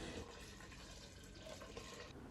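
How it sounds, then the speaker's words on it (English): Water running steadily from a bathroom faucet into a pot of potatoes, a continuous hissing splash that stays even and fairly loud throughout. "So this is me getting water from my bathroom faucet"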